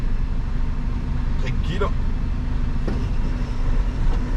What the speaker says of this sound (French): La voiture, on va la laisser passer.